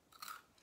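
Crunchy fried food resembling small French fries being chewed close up, a brief crisp crunch burst alone with no talking.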